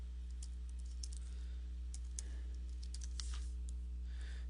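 Someone types two words on a computer keyboard, a scattering of light, quick key clicks over a steady low electrical hum, faint and without speech.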